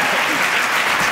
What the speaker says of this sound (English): Oh yeah, you can clap, you can totally clap.